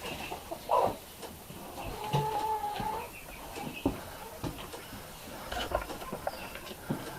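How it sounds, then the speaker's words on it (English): Farm chickens being let out on a foggy, wet November morning cluck and call softly at a moderate distance, with a few clearer squawks over a quiet outdoor background. "So in the morning, I have to let the chickens out."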